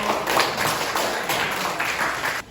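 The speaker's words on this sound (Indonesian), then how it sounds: "Tepuk tangan untuk kelompok" Students in a classroom clap for a presenting group, a brief, moderately quiet patter of hand claps in an uneven rhythm that stops abruptly.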